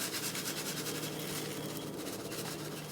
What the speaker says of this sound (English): now we're going to completely cover the steaks with this coarse kosher salt